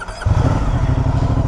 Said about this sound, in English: Let me go ahead and start it for you guys, and you'll see what I mean.